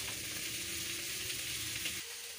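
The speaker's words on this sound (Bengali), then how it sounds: "কড়াইতে যে দিয়ে দিলাম আলুগুলোকে ভালো করে নেড়ে করে ভেজে নেব।" Potatoes frying and sizzling in a hot pan (kadai) for Bengali aloo dum, a steady close hiss throughout that drops away sharply near the end.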